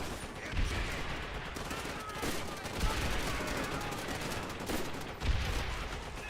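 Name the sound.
grenade launcher firing in video game Call of Duty: World at War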